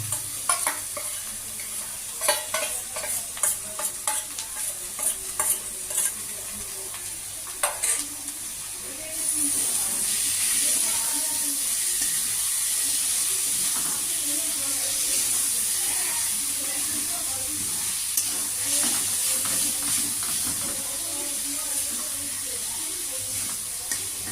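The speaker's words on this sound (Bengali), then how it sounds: "আমি এবার আস্তে করে মাছগুলি ছেড়ে দেবো" Small kachki fish fry in a pan with tomato, giving a steady close sizzle. Sharp utensil clicks and scrapes come through at first, then a denser, louder hiss of frying carries on alone.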